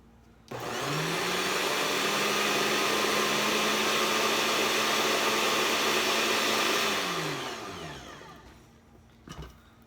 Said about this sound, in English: let's blend this up a little bit